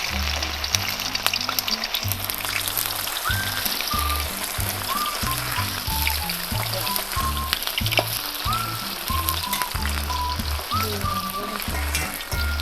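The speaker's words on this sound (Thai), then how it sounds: "ขั้นตอนการทอดกุ้ยช่าย" Thai chive dumplings (kuichai) deep-frying in smoking-hot oil, a steady dense sizzle and crackle running throughout with no talk, over a looping background music bed.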